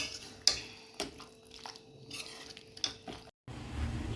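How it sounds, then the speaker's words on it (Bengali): Chilli chicken gets stirred in a pan: a spatula scrapes and knocks against the metal in a repeated, uneven rhythm over a faint sizzle, close and moderately loud, with a brief dropout near the end. "ভালো করে নেড়ে দেওয়া হচ্ছে"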